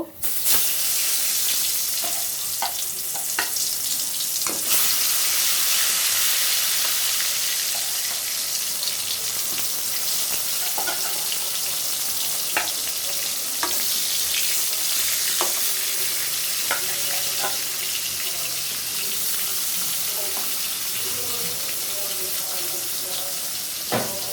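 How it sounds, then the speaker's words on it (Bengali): Eggplant slices fry in a pan on a home stove with a steady, close sizzle that runs without a break, dotted with faint clicks and scrapes from stirring. "বেগুনটাও ভেজে নিব"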